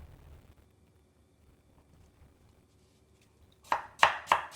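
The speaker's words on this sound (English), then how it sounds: "Slice thinly like this." A knife slicing an onion thinly on a board, three or four crisp close cuts arriving in quick succession after a quiet stretch, no talk.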